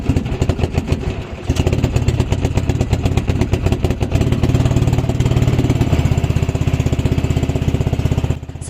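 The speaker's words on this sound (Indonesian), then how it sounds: "Mesin kembali normal dan perjalanan pun dilanjutkan." A ketinting longtail boat engine runs loud and close, a rapid steady putter that continues throughout with slight shifts in pitch and no voices over it.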